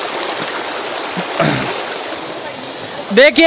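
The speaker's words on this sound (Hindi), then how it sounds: "क्या खूबसूरती है इस झरने की" An artificial waterfall, partly broken, gives a steady rushing flow of water throughout, with a voice speaking briefly over it and a short burst of louder noise near the end.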